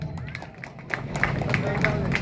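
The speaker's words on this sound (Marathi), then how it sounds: "टाळ्या वाजवा एकदा." An audience at an outdoor prize-giving ceremony in Chikhli claps for a student, giving a spread of hand claps that builds into steady applause amid crowd murmur, moderately loud.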